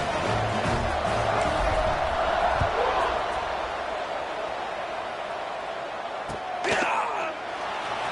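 Stadium crowd roaring steadily in College Football 25 as the kickoff unit takes the field, a dense sustained wash of cheering with a brief sharp burst near the end.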